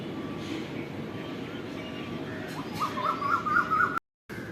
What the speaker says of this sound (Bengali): এটা কি পাখি, ডাকবে দেখবে, চি করছে